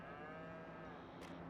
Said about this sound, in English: yes, moo indeed.